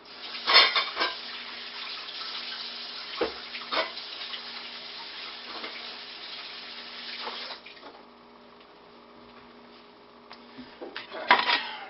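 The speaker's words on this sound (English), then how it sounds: "And when you're done, wash your hands." Tap water running steadily while hands are washed, a hissing flow with a few clinks and knocks from the sink nearby.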